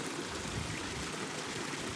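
Garden water feature trickling and flowing in a steady, soft, even wash of water, close and continuous with no voices.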